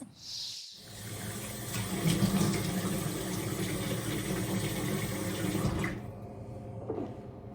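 Warm water runs steadily from a tap into a sink, a loud continuous rushing spray that starts after a brief pause and stops abruptly near the end.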